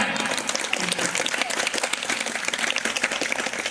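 An audience at a school annual function claps, a dense patter of many hands that stays steady and fairly close for several seconds, with a voice faintly mixed in.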